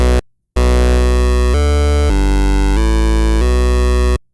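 Distorted square-wave synth bass in a bass house style plays a run of about six sustained, buzzy notes that change pitch in steps, loud and up front with no voices.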